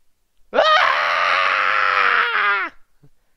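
A loud, sustained shriek from a Sonic parody fangame such as Sunky.MPEG or Silly.TIFF, rising sharply and then holding harsh and distorted for about two seconds before cutting off abruptly, with no talk over it.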